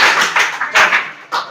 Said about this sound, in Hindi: चलो ठीक है, बुलाओ तीनों के लिए तालियां।